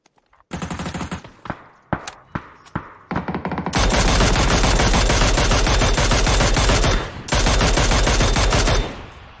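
Rapid automatic gunfire and heavy cannon blasts from a shooting video game, starting as scattered sharp shots and then merging into a loud, sustained barrage that drops out briefly near the end before resuming.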